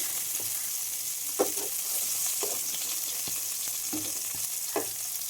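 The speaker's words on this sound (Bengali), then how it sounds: "আমি একই তেলে কিন্তু এই যে দারচিনি লবঙ্গ আর গোটা গরম মশলা দিয়ে দিয়েছি" Cinnamon, cloves and whole garam masala spitting in hot oil, a steady bright sizzle throughout with small crackles and a few soft stirring knocks, close and continuous.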